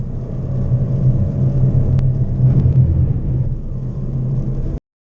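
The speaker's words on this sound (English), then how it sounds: "Subaru was bold enough to let us drive around the race circuit in the previous model" A previous-generation Subaru BRZ sports car is driven through a corner on a race circuit, its engine a loud, steady, low droning rumble heard from inside the car, holding constant before cutting off abruptly near the end, with no talking.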